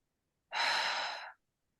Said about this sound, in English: starting to take deeper and deeper breaths